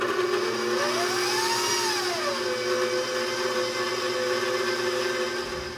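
A stand mixer kneads a basil garlic cheese bread dough, giving a loud steady motor whine that rises briefly in pitch then settles, running alone throughout and easing slightly at the end.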